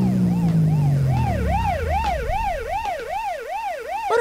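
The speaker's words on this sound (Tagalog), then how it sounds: "Murag sirin man ros pulis?" A police siren wails in a steady up-and-down sweep, loud and continuous, with a lower engine tone fading out early; no talking.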